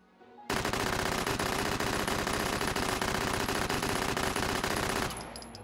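Sustained full-auto gunfire from a virtual firearm in the VR shooting game Hot Dogs, Horseshoes & Hand Grenades, a loud, rapid, unbroken burst of shots lasting several seconds before stopping abruptly.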